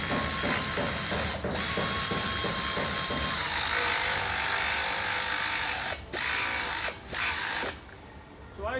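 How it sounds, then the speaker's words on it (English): A hand ratchet tightens a nut on a bariatric directional lock castor, giving loud rapid clicking pawl strokes in bursts, close up, with brief pauses between runs of turning. "And then just use my ratchet then to tighten it."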